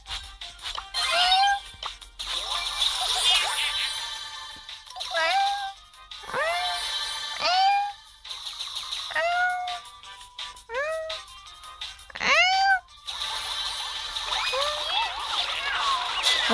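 A cat meowing in the Brawl Stars video game, several short rising and falling meows repeated in quick bursts over game music and effects, loud and close, with someone talking in between.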